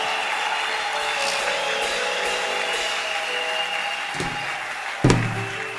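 Church congregation at a Friday worship service loudly acclaiming together, a sustained dense wash of cheering and clapping with a sharp burst near the end.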